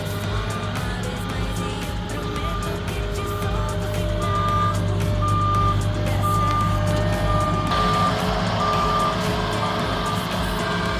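A delivery truck carrying an offloading machine for long lumber packages arrives on a residential road, its steady reversing beeps repeating over a continuous engine rumble that grows slightly louder toward the end.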